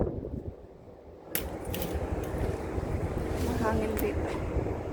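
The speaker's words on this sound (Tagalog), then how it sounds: "Mahangin dito." Wind buffets the microphone in a steady low roar that swells after a brief lull, with faint voices underneath, on a mountain near the Big Buddha.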